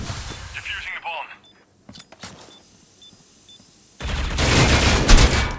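Bursts of automatic gunfire from a shooter video game, a short spray near the start, a quieter stretch with scattered shots, then a loud dense burst of firing in the final seconds, with a caster talking over parts of it.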